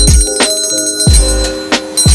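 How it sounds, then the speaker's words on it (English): A bell is struck loudly and close several times in quick succession, each strike ringing on with sustained tones, and no voices are heard. "every time a bell rings, an angel gets its wings"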